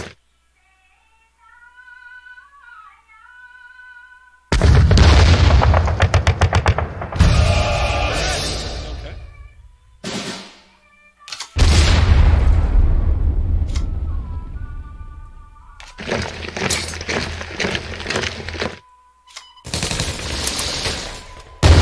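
Gunfire and artillery from an attack in the WWII card game KARDS: loud bursts of rapid shots and heavy booms in several separate waves, with quieter musical tones in the gaps.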